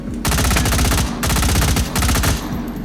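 A firing port gun in the virtual reality shooter H3VR fires in loud, rapid automatic bursts, three sustained volleys separated by short pauses, close and dominant with no talk over it.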